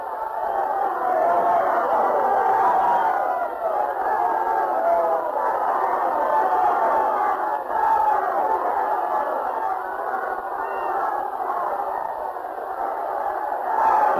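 A crowd and cheerleaders roar steadily at a muddy college football game, a continuous wash of cheering voices filling the whole stretch on an old, slightly muffled recording.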